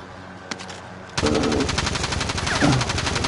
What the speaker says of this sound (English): Who are you shooting at, bro?